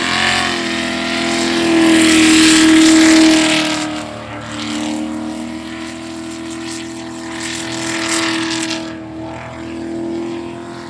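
A jet sprint race boat in the 400 class roars loudly and steadily for about ten seconds, the engine note surging and easing as it runs the course, with no talk over it.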